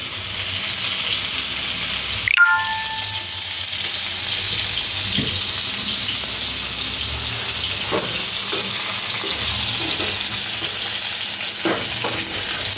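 Food frying in refined oil in a pan in a home Bengali kitchen, a constant close sizzle and crackle with a brief metallic clank early on and occasional stirring scrapes.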